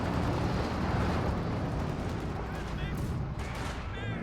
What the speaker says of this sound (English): 120mm mortar engaging